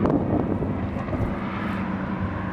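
A Lamborghini supercar accelerating hard, a loud, steady engine roar and rushing wind noise that holds evenly throughout with no talking.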